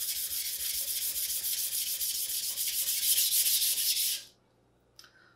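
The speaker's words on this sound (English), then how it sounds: "I go pretty flat on the stone. In order to thin out the whole bevel." A Japanese kitchen knife is ground nearly flat on a sharpening stone to thin the bevel, giving a steady, close, rhythmic wet scraping that runs about four seconds and then stops, followed by a faint tap.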